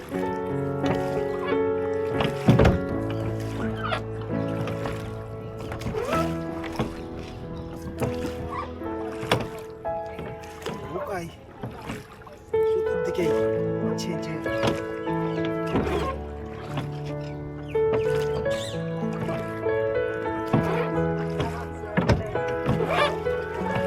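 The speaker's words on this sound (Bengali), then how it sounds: "নৌকার বাইচ শুরু করেছি" Oars knock and water sloshes rhythmically as a rowing boat moves on a lake, with tonal music and voices over the top.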